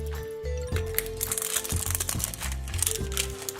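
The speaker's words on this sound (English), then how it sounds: "Now let's keep unwrapping." Plastic toy packaging from an LOL doll is unwrapped, producing close, busy crinkling and crunching in irregular bursts over a low steady hum of background music.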